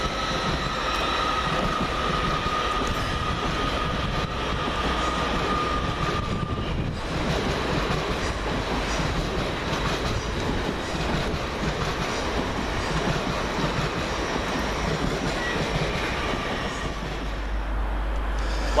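LNER Class 800 and 801 trains pass along the East Coast Main Line at Peterborough station, a steady loud rolling rumble with faint wheel clatter filling the whole stretch, no voices.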